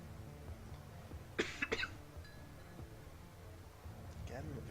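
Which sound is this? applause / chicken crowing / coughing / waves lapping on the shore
coughing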